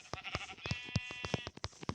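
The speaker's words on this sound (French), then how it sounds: "Plus qu'un mouton. Il est là-bas." Sheep bleating in a survival video game, a couple of short close bleats layered over busy game sounds, with no talk.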